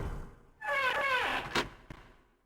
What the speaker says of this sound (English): Without hesitation, Snake opened the door and stepped inside.